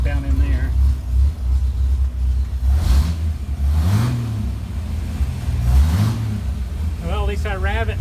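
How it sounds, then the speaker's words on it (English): A 1964 Mercury Comet engine idles with a loud, low rumble and is revved twice, each rev swelling and falling back, and a voice speaks briefly near the end. "at least I rev it now and I don't have it banging on the"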